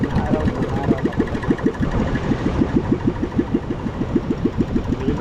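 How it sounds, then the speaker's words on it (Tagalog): A petrol engine idles at close range with a steady, rapid chugging pulse and a rough mechanical rattle, running evenly throughout with no voices. "Kaya pinapandar natin para yung gasolina hindi siya mamungo sa sulod."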